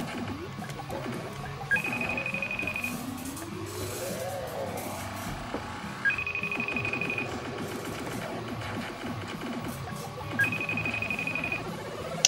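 An electronic ringing tone repeats three times at regular intervals over busy background noise and clatter.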